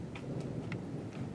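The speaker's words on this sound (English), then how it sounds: "I don't know if you can hear the thunder in the background" Low, steady rumble of distant thunder rolling under a stormy sky, faint and continuous, with a few soft higher ticks scattered over it and no talking.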